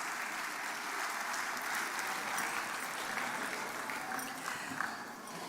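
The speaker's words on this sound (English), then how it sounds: "Let's give another round of applause to our graduates from the School of Arts" Steady applause from a commencement audience honoring graduates of a school of arts and social science, a broad continuous wash of clapping from a large crowd that holds even throughout without talk.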